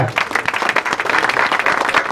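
Audience applause for a racing cyclist being presented at a team rider introduction, a steady wash of dense clapping close and loud throughout, with a few brief voices mixed in.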